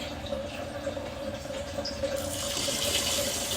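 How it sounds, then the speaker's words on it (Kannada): Water pours steadily into a pot of rice, a continuous close splashing and filling sound that grows slightly louder and brighter toward the end. "ಇದಕ್ಕೀಗ ನೀರು ಹಾಕೊಳ್ತಾ ಇದ್ದೀವಿ"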